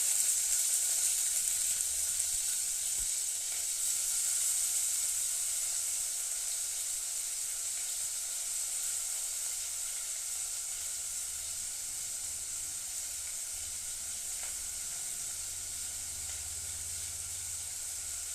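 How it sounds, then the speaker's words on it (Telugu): Chopped onions sizzling in two spoons of hot oil in a pan for bendakaya (okra) curry, a steady, close hiss that runs on evenly for many seconds, with no voices. "ఆనియన్స్ వేసుకుంటున్నాం ఫస్ట్"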